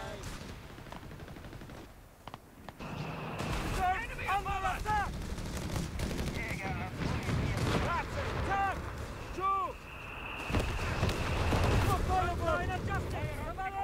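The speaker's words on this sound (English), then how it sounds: "At least the mortar pit's doing something." Mortar pit firing in the video game Company of Heroes 3, repeated booming shots and explosions under continuous battle noise, with whistling shell sounds and a commentator talking over it.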